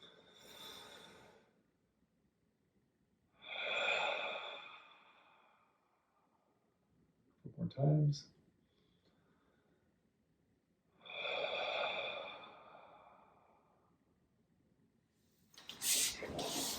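A person exhales onto a mirror to fog it, then inhales, during a yoga breathing exercise; three soft, breathy rushes come close up, spaced a few seconds apart, with a brief spoken remark between them.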